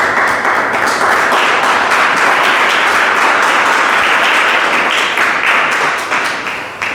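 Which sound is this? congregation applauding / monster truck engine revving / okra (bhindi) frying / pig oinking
congregation applauding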